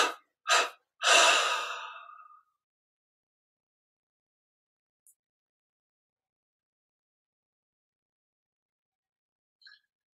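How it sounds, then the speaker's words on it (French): Breathing during a guided relaxation exercise: two short, sharp breaths, then a longer, louder sighing breath that fades out, followed by near silence with a couple of tiny faint ticks. "on inspire profondément et 3 expires pour abandonner les 2 dernières techniques"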